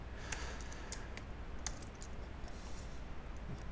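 Computer keyboard typing, a quick scatter of faint, close key clicks over a steady background hiss with no talk.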